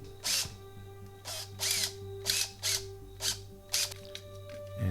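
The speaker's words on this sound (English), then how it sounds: "using a precision drill, do a quick pilot hole" A precision hobby drill bores a pilot hole in a plastic part from a 1/12 scale Tamiya Kawasaki ZZR1400 model kit. About seven short, close whirring bursts come in an uneven rhythm over a low steady hum.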